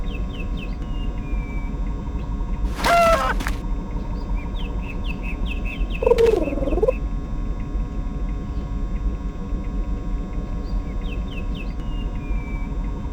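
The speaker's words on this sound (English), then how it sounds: "What a beautiful bird." Chirping bird calls from the Star Trek: A Final Unity video game twitter in short repeated phrases over a low ambient rumble, with two louder, brief bursts of sound in the middle and no speech.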